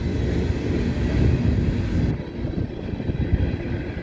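A CSX train led by locomotive 1900, the Seaboard Air Line heritage unit, rolls past with a loud, heavy, continuous rumble that thins slightly partway through and then keeps going.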